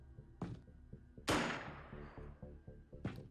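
Gunfire from a sniper and a machine gunner in the Xenonauts strategy game: three separate loud shots with ringing decay, the middle one the heaviest, with quiet pauses in between.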